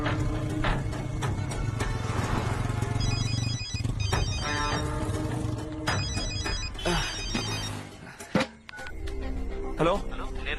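A phone ringtone chimes repeatedly in a tense dramatic film scene, bright electronic tones recurring over background sound, with voices nearby.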